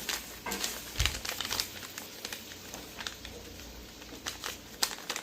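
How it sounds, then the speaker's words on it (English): Paper is folded and creased for an origami heart, making soft crinkles and sharper snapping creases at irregular intervals, close and quiet. "Now, first, I have to fold my origami"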